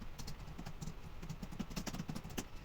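Quick, irregular keystrokes on a computer keyboard while entering text into an Excel spreadsheet cell, close and faint, clattering in short bursts.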